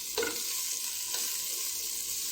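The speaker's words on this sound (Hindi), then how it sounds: "मैंने ये जो चॉप की हुई प्याज है ना हमने वो ऐड करनी है" Chopped onion added to cumin frying in oil for a dhaba-style masala dahi bhindi, a steady hiss of sizzling with a brief louder burst as the onion drops in, close and without speech.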